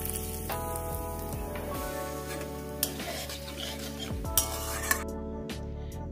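Tempering spices for a Bengali cabbage dish, bay leaves, dried red chillies, five-spice and cumin, are stirred in a pan with continuous close scraping and sizzling, broken by a few sharp metallic clinks of the utensil against the pan.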